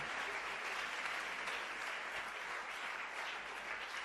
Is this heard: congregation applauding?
yes